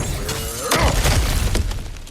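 Objects shatter and smash in God of War Ragnarok, a loud crash with splintering debris and a low thud, followed by a lighter knock as the clatter fades.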